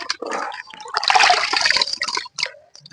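Fish being rinsed in water at home after cleaning at the market: close, uneven splashing and sloshing in several bursts over a few seconds, with trickling between.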